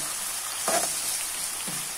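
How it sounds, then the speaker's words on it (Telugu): Onion frying in oil while stirred, a constant hiss with a couple of brief spatula scrapes. "ఆనియన్ వేసుకుని కలుపుకోవాలండి. ఆయిల్ ఫ్రై అవ్వాలి"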